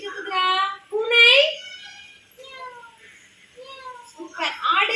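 A child imitates a cat, giving a few drawn-out, wavering meows one after another, close and fairly loud, with short pauses between calls.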